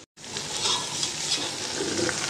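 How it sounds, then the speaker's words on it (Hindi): Two kilograms of chicken frying in masala for biryani give a steady, close sizzle with stirring scrapes throughout, after a brief silent moment at the start; nobody speaks. "चिकन मैं ऐड कर चुकी हूँ और अब थोड़ा सा मैं इसे फ्राई करूँगी।"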